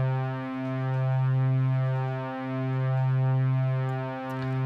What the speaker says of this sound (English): now we go to the reverb and raise the amount to 629